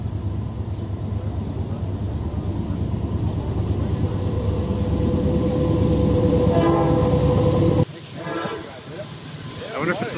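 A heavy train rumbles past loud and close over a flip phone on the tracks, a deep roar building steadily before cutting off abruptly, followed by quieter rattling.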